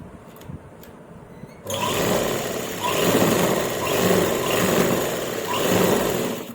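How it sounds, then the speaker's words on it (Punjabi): An electric sewing machine stitching a salwar seam starts abruptly and runs steadily, a close, even mechanical whir with a gently pulsing rhythm. "ਇਸ ਤਰ੍ਹਾਂ ਆਪਾਂ ਦੂਜੇ ਆਸਣ ਨੂੰ ਵੀ ਸਿਲਾਈ ਲਾ ਦਿੰਨੇ ਆ ਜੀ"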